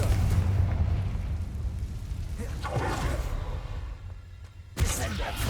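Confringo fire spell blast in the Hogwarts Legacy video game, a loud rumbling explosive burst over continuous game noise, with a sharp fresh impact near the end.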